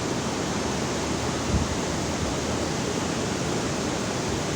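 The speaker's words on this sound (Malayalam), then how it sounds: "എല്ലാ ഷട്ടറിൽ നിന്നും വെള്ളം വന്നിങ്ങനെ കൃത്യമായിട്ട്" Water pours from every open shutter of a dam into a river, a steady, dense roar of gushing and falling water that fills the clip evenly from start to end.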